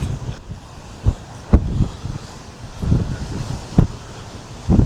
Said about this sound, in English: It's very windy up here, naturally